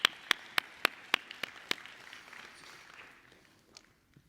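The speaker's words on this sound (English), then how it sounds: "I'd like us to give a massive round of applause" Sparse, sharp hand claps at a business marketing talk, about seven distinct claps in the first two seconds, then fading into a faint room murmur with no sustained applause building up.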